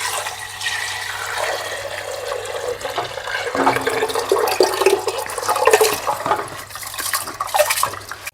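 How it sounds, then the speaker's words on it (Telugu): Soaked rice and coconut milk poured into a pressure cooker for coconut rice, a steady liquid rush with light clinks of metal cookware, close and continuous throughout. "ఇప్పుడు మనం ఆల్రెడీ గంట సేపటి నుంచి నానబెట్టుకున్నాం బియ్యం, కొబ్బరి పాలు. ఇది మనం డైరెక్ట్గా కుక్కర్లో వేసేసుకోవడమే."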